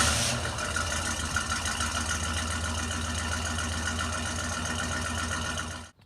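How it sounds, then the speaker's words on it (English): A 1972 Oldsmobile 442 muscle car idles, its exhaust giving a steady low burbling rumble that holds evenly for about six seconds before cutting off abruptly, with no voices. "So let's take an exhaust note, because what would a muscle car review be without an exhaust note?"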